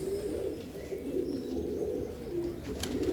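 Pigeons coo softly and steadily, low rolling calls repeating close by with no talking.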